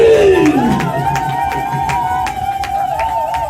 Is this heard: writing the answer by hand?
no